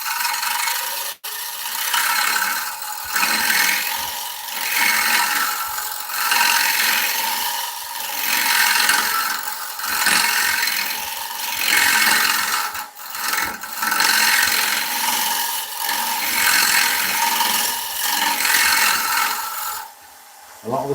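A spalted beech bowl spins on a wood lathe while a tool scrapes and cuts, producing a continuous rough hiss that swells and fades in repeating passes, close and steady with no speech.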